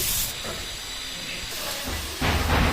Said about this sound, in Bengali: নারকেল কড়ার মধ্যে দিয়ে দিলাম